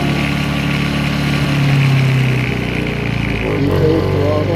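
Honda EU2000 inverter generator running steadily during its break-in run outdoors in snow, a continuous close engine drone with a constant hum and no load applied.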